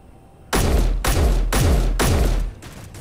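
Four heavy single shots from the MR20 rifle in Space Engineers, evenly spaced about half a second apart, each a loud booming crack with a deep low thump and a short decay, no voices.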